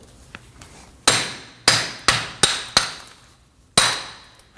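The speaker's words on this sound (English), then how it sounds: "I'm going to use a hammer to strike the hub." A hammer strikes the rear wheel hub of a 2003-2006 Subaru Baja during a wheel bearing replacement: six sharp metallic blows, loud and close, in an uneven rhythm over a quiet background.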